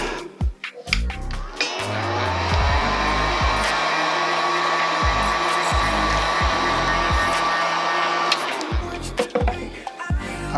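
A hair dryer blows a loud, steady roar close by for roughly seven seconds, drying freshly custom-painted Air Jordan 1 sneakers, with handling knocks and thumps before it starts and after it cuts off.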